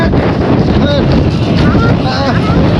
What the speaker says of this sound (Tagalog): Bumpy and windy and so windy.